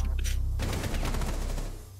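Rapid burst of gunshots in a tactical shooter video game, a dense crackling fusillade of sharp cracks following a short low rumble, loud and close, fading slightly at the end.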